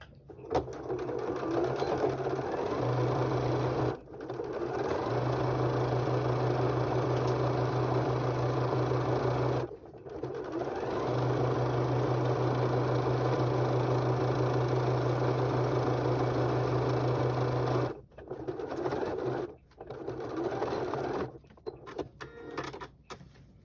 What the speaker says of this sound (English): just top stitch all the way around